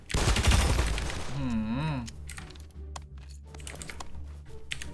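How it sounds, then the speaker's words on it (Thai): Rapid pistol fire in the video game Omega Legends, a loud dense burst in the first second and a half, then scattered shots and clicks over a persistent low game hum. "โอ้ถือว่ารัวนะแต่ว่ากระสุนน้อยฮะ"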